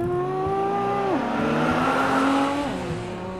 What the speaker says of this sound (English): for this I need to drive out of my house and get in my car